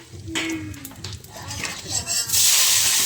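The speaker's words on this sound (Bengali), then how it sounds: "জিরে, তেজপাতা আর শুকনো লঙ্কা ফোড়ন দিলাম।" Cumin seeds, bay leaves and dried chilies hit hot oil where potatoes are frying, bursting into a loud, sustained sizzle near the end after a few clinks of utensils on the pan.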